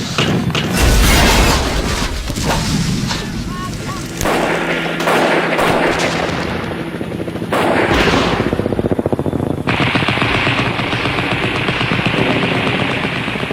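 Heavy gunfire from machine guns in a wartime battle as helicopters land, loud, continuous bursts and booms filling the whole stretch with dense, overlapping shots.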